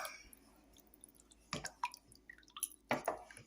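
Beaten egg is poured into cooled liquid for an Easter spice bun dough, giving faint wet drips and a few soft splashy plops and squishes in an otherwise quiet kitchen.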